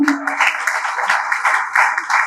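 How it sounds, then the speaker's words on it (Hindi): Short burst of audience applause at a business conference in Lahore, Pakistan, a steady patter of many hands lasting about two seconds at moderate level. "इस बात पर तालियां होनी चाहिए?"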